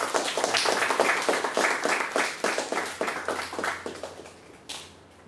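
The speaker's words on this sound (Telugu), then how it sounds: "గట్టిగా క్లాప్ కొట్టాలి." An audience at a Telugu poetry book launch gathering claps enthusiastically, a dense run of applause with a loose rhythmic pulse that holds steady for several seconds before tapering off.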